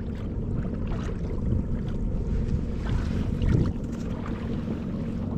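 Steady wind rumbles and buffets the microphone on open sea during kayak fishing off San Clemente near the Wheeler North reef, a continuous low roar with gusts and no voices.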